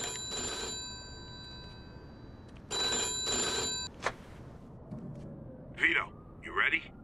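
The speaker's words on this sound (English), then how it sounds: "And of course, I'm getting a phone call." A phone rings in the Mafia II video game, sounding in two bursts of a bright, tonal bell about two seconds apart. Brief voice-like sounds and a soft click follow near the end.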